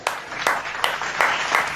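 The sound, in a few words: congregation clapping hands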